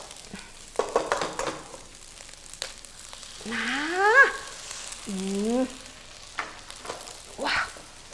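Egg frying for fried rice sizzles in a hot pan in short bursts, heard beneath a few scattered spoken words and stirring noises.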